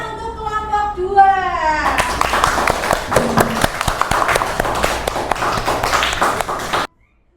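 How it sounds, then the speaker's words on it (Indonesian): Classroom students clapping for a student group after a turbine experiment presentation, a dense burst of hand claps lasting several seconds, preceded by a voice and with children's voices mixed in, stopping abruptly near the end. "tepuk tangan untuk kelompok 2."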